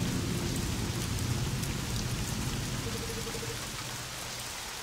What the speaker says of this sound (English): All the rain coming down on me